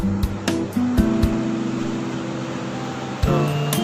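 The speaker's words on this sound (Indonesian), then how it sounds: "Ini ombaknya besar banget ya." Large ocean waves at Mutiara Beach: a loud, steady broadband rush of surf with no letup, overlaid by a droning tonal hum and a few sharp knocks.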